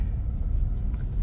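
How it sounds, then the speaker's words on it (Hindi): Car on a road toward Kolhapur via Bawda, a steady low engine and road rumble from inside the vehicle, continuous and fairly loud with no talk. "अकेले गाड़ी चलाना"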